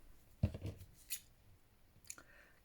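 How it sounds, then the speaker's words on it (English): A few quiet, crisp scissor snips spaced apart, cutting across lace, heard up close in an otherwise hushed room. "so that I'm basically snipping across the pattern of the lace."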